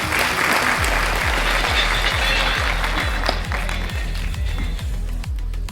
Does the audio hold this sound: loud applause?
yes